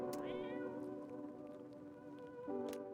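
A cat meows repeatedly in the video game No I'm Not A Human, its voice sustained and fairly close, heard over steady harmonic game music with a second rising call near the end.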